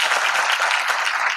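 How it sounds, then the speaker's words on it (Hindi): An audience applauds at a youth consultation event, a dense, steady burst of clapping that fills the short moment at close range with no speech over it. "अपने लिए जरूर ताली बजाएं।"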